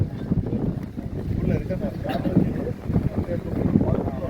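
A public pleasure boat glides across the water, its low steady rumble mixed with gusty wind buffeting the microphone and indistinct voices of passengers murmuring nearby throughout.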